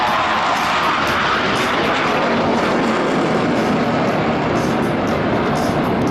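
A loud, constant jet roar from a trainer aircraft flying aerobatics close by at an air show in Jesolo, a dense rushing drone that holds steady without pause.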